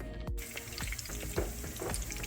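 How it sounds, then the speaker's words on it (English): Squash frying in a pan with a steady crackling sizzle, punctuated by a few soft scraping stirs, heard up close without voices. "We're frying our squash."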